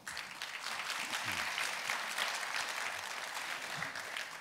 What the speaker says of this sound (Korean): 제가 소개해 드리면 뜨거운 박수를 부탁드립니다